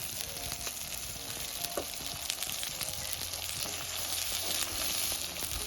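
Masala paste fries in a pan for a spicy village-style black chicken curry, a steady close sizzle with light stirring clicks and pops that grows slightly louder toward the end.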